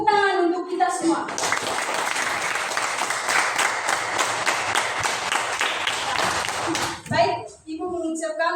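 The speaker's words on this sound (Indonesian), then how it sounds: "tepuk tangan untuk kita semua" A classroom of students bursts into loud, dense applause that lasts several seconds, framed by a teacher's voice speaking before and after the clapping.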